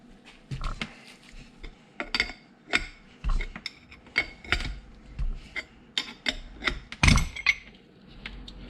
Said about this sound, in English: start tightening this guy down so that I can pop out that pillow block bearing